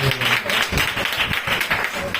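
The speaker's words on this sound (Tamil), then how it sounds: "கரங்களை உயர்த்தி கைத்தட்டி ஆண்டவர் நாமத்தை மகிமைப்படுத்துவோம்." A church congregation claps hands together during a Sunday service, a steady, fairly loud patter of many hands, with a voice speaking over it.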